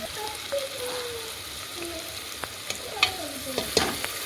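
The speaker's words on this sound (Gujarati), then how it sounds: "હવે એને મિક્સ કરી દઈશું, મિક્સ થઈ જાય એટલે એમાં ભાત એડ કરશું" Cooked rice stirred with turmeric and salt in a hot pan: a soft, steady sizzle with a spoon scraping and tapping against the pan in scattered knocks, close and moderately quiet, with no talk.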